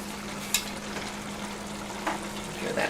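Jambalaya being stirred in a pot, a steady sizzle with a few soft scrapes of a spoon against the pot, close and alone with no voices.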